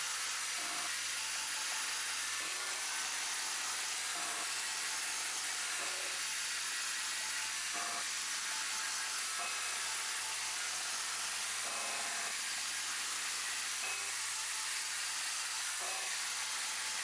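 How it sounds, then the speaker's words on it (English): A milling machine peck drills threaded holes with a 6mm bit, giving evenly spaced short bursts about every second and a half over a constant hiss and low hum. "And then peck drilling to break off the chips."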